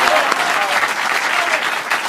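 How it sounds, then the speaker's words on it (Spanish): An audience at a live comedy recording claps loudly and continuously, a dense close wash of applause with brief voices mixed into the crowd. "fuerte el aplauso para mi señora que está en la grabación"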